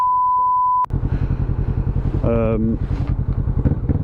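A Triumph Tiger motorcycle engine starts up after a short beep, then settles into a steady, close idle with a low pulsing rumble, while a person talks over it and a brief tonal chime sounds midway.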